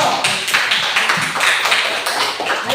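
A classroom group claps together in brisk, dense applause, close and loud for a few seconds.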